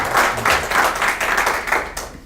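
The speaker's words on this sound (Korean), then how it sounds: "우리 박 대표님 다시 박수 한번 다시 한번 주시죠" An audience at a business seminar talk show claps in a quick burst, several pulses of applause at close range that end after about two seconds.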